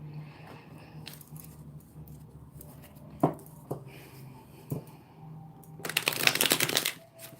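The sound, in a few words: shuffling tarot cards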